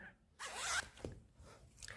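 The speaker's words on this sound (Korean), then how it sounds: "지퍼를 올려 보시면," A zipper is pulled up on a handmade flared skirt during sewing, one quick close rasping zip followed by soft fabric handling, with no talking.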